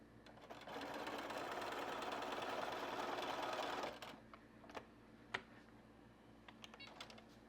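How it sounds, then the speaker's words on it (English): A sewing machine runs steadily for about three seconds, stitching down quilt jelly roll strips for a log cabin quilt, then stops, followed by a few soft clicks and handling sounds. "And then I sew down."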